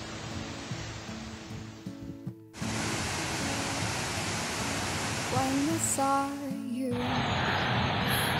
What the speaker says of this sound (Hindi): ये एक वाटरफॉल जा रही है